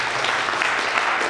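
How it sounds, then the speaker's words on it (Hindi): An audience at a company's first-anniversary event applauds, giving a dense, steady wash of clapping without pause. "मैं चाहूंगा इनके लिए एक जोरदार ताली।"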